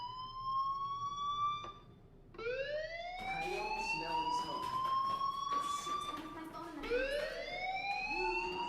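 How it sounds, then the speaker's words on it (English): Fire alarm in the video game Life is Strange, a loud rising electronic siren wail repeating in sweeping cycles, with background game audio underneath. "do you hear that fire alarm? That means you should be outside"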